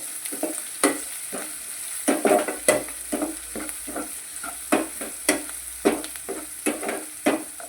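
Ingredients sauté with salt in a pan for bread upma: a steady sizzle under repeated sharp scraping and clattering stir strokes, close and busy, with no talking.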